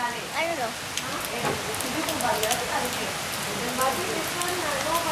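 Rain falls steadily in a continuous hiss, with voices talking faintly underneath throughout.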